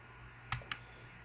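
Two sharp computer mouse clicks about a fifth of a second apart, quiet and close, with a steady low hum underneath, made while cutting footage in Adobe Premiere CS4.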